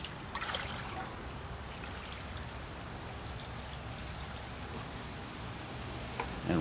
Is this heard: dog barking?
no